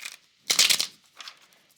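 A deck of tarot cards is shuffled in a few quick riffling bursts, one loud crisp flurry in the middle flanked by softer shorter ones, close and with no talking.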